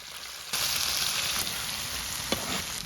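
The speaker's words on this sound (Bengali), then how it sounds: "পেঁয়াজটা হালকা ভাজা হয়ে গেছে" Garlic paste, ginger paste and chopped onion fry in oil in a wok for tawa chicken. A dense, close sizzle starts abruptly and holds steady, with a brief clatter near the end.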